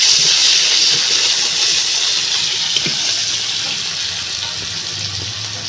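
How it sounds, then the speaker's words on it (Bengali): Cumin and onion spice paste sizzling in hot oil, a loud, steady hiss that stays even from start to finish and fades only slightly toward the end. "এই যে গরম তেলের ভিতরে আমি এখন মশলাগুলো দিয়ে দেব"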